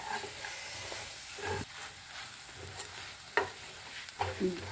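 Yogurt halwa being stirred and cooked in a pan, with a steady soft sizzle and hiss under intermittent scraping strokes of the spoon, close and moderately quiet, no voices.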